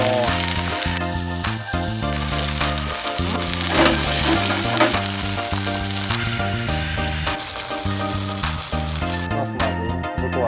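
Padron peppers sizzling on a charcoal grill beside a chuck eye roll steak, a steady crackling hiss running under loud background music for the whole stretch.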